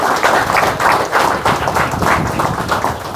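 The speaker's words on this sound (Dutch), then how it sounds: "Mag ik nog een warm applaus voor de voorzitter van de bond." A crowd gives a warm round of applause for the chairman of a security union at a gathering, with steady, fairly loud clapping filling the room for several seconds.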